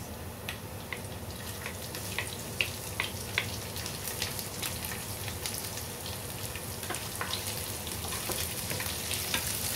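Onions sizzle and crackle steadily in a hot pan for sautéed sardines, a soft continuous frying hiss with scattered pops, fairly faint and heard alone.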